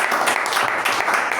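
Applause at a club meeting, a short burst of close, dense clapping from a small group of people, steady and loud throughout.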